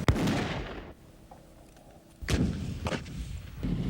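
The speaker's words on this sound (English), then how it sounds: "the Marines use the Dragon guided anti-tank missile" Marines firing Dragon guided anti-tank missiles, a loud close blast with a rumbling tail, a quieter stretch, then further sharp booming reports in quick succession.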